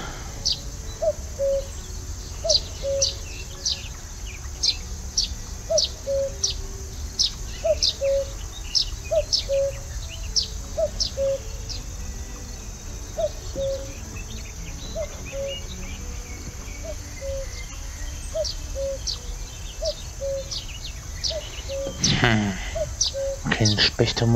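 Two-note cuckoo call from The Night of the Rabbit's game forest, repeating in a steady rhythm over a low ambient bed alongside chirping sparrows, moderately loud and alone without talk.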